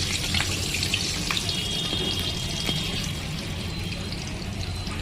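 Mini beguni, batter-coated eggplant slices, frying in hot oil, giving a loud, dense, continuous sizzle and bubbling crackle close up throughout, with no voices.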